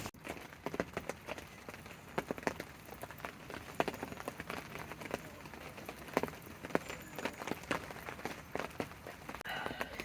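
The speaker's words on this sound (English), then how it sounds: "it's still very much raining" Soft, steady rain patters on a surface at a fishing lake, with scattered sharper drips and taps standing out against the continuous hiss; no one speaks.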